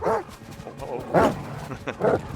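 Dogs bark and yip in the video game Stalker 2, sharp close bursts coming in several separate volleys with whimpering between them over game ambience.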